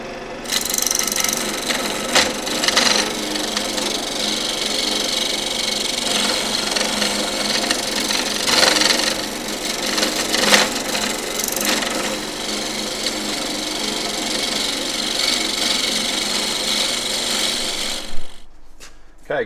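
Wood spinning on a lathe as a carbide tool cuts a ring holder, giving a steady, close scraping and rasping hiss that runs unbroken for most of the span with a few sharper bursts, then stops abruptly near the end.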